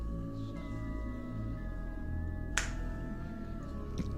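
A single crisp finger snap lands about midway through, a sharp isolated click standing out over a steady humming tonal drone, with no one speaking.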